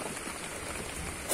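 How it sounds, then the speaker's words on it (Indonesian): Rain falls steadily on a farm where turtle doves are kept in cages, a faint continuous patter and hiss with no talking. "Ini mendung ya, hujan ya."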